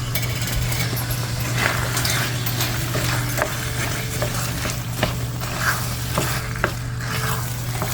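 A keto unstuffed cabbage casserole mixture of cabbage, meat and parsley is stirred, with repeated scraping strokes and light clinks over a soft sizzle and a steady low hum, with no talking.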